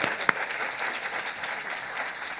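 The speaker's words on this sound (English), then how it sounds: "I think another round of applause." An audience at an annual general meeting breaks into applause, a dense, steady patter of clapping from a roomful of people with one sharper clap standing out near the start.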